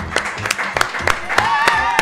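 A brief burst of hand clapping, a few claps ringing out over a voice and a sustained tone.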